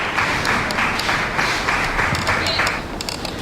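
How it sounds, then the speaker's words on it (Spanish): An audience at a talk and debate in La Plata applauds in a steady wash of clapping, with a mix of voices murmuring beneath it before it tapers near the end. "Les doy un aplauso a las compañeras."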